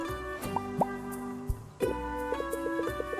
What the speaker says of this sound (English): the cauldron's bubbling